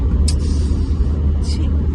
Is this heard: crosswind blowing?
no